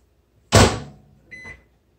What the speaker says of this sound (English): stick it in your microwave